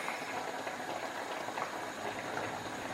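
Salmon stew with thyme simmering in a pot on low heat, a soft, steady bubbling hiss with faint pops, quiet and continuous.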